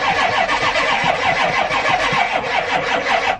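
A Ford truck that has not run for months cranks without catching, a loud, close, rapid chugging of the starter that runs steadily for about three seconds and then cuts off.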